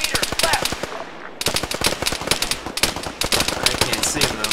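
Gunfire in the combat video game ArmA 3 comes as rapid, loud automatic machine-gun bursts that repeat in quick trains with brief pauses, and a faint voice is heard under the shooting.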